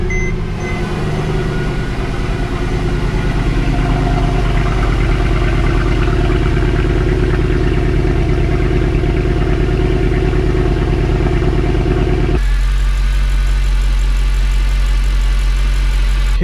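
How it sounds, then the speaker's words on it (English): A facelift Mercedes C63 AMG V8 runs close and loud at a steady, deep idle, its rumble holding even before the tone abruptly shifts lower and smoother near the end. "let's go ahead and start it up."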